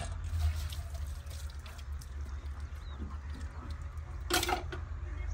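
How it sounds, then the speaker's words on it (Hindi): Water splashes and trickles while dishes are washed by hand at a mud house in a Punjab village in Pakistan. The sound is faint and uneven over a low hum, with a brief louder splash near the end. "बर्तन में धो रही हूँ"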